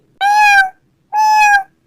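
A cartoon cat gives two clear, loud meows in a row, each about half a second long and separated by a short pause, with no talking over them.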